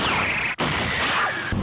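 A GoPro camera mounted on an Aprilia Tuono 660 motorcycle smashes and breaks, a sudden loud crash with a brief dropout, set in dense wind rush and roar that continues after the impact.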